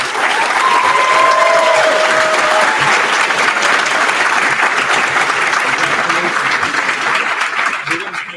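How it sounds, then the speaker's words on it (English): Audience applause at a commencement ceremony, a steady roomful of clapping held for about eight seconds, with faint whistles early on, then tapering slightly at the end. "Please give me a round of applause for Inaru"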